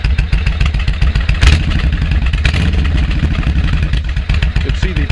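A 2002 Suzuki VL1500LC cruiser with Cobra pipes idles close and loud with a deep, lumpy V-twin pulse, rising briefly with a light blip of the throttle before settling back.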